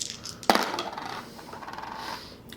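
Dice rolled for a Hail Caesar tabletop wargame in a Hundred Years War scenario: a sharp hard clatter as they land, then a short rattling spin settling out, close and alone.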